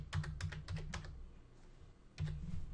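Someone types an IPv4 address on a computer keyboard. Two quick bursts of crisp, close keystrokes are separated by a short pause.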